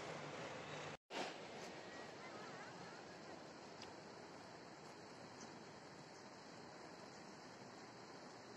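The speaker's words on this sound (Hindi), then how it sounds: "दोस्तों नदी के किनारे ध्यान करना अद्भुत है, पानी की किलकल आवाज में" River water rushing steadily beside the Akase Pul suspension bridge in Nepal, a broad, constant roar that continues throughout with only a brief dropout near the start.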